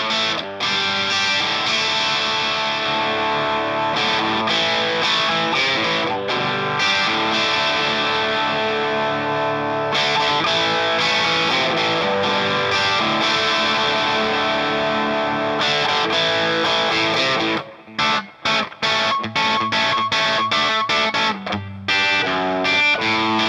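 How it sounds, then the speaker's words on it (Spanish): Electric guitar played through an Ogre Thunderclap distortion pedal while its bass control is adjusted, giving dense, saturated chords and riffs that ring on continuously, with short choppy stops near the end. "Vamos a probar primero el control de bajo."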